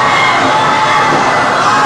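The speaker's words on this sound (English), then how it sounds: "this crowd woke up real quick" Crowd at an independent wrestling show roaring and cheering loudly and continuously, a dense wash of shouting voices including children, close and sustained without pause.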